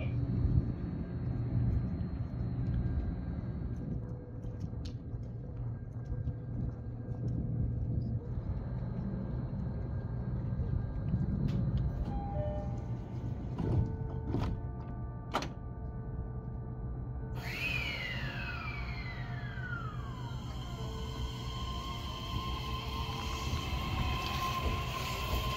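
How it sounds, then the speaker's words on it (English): A train pulling out of Umi Shibaura Station beside a Toshiba factory in Japan, a low steady rumble with rising whine and a brief high squeal near the end, heard without talk. "I'll tell you just after the train leaves."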